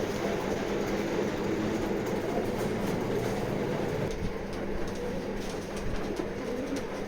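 A silver racer pigeon calls amid continuous low rumbling background noise, with steady loudness and soft cooing buried in a dense, noisy mix.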